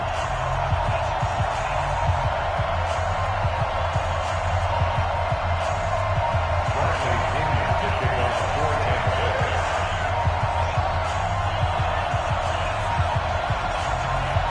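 Dense stadium crowd roar and cheering from a Madden NFL video game broadcast of a Tampa Bay Buccaneers versus Atlanta Falcons Week 6 matchup, a steady loud wash of noise throughout with low rumble underneath.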